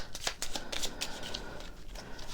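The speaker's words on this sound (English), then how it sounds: "Well, there's only 1, so we'll shuffle that back in," Gear cards from the Parks board game being shuffled back into the deck by hand: a quiet, close run of soft riffling and sliding card noise with no talking.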